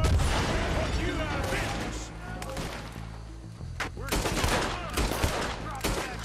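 Rapid double-action revolver gunfire in Red Dead Redemption 2, a dense run of loud, sharp reports echoing over busy game noise, with a voice talking alongside.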